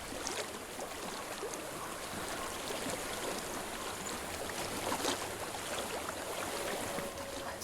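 Flowing stream water in the game Hellblade: Senua's Sacrifice, a steady broadband rush and gurgle that holds at an even level throughout, with no voices.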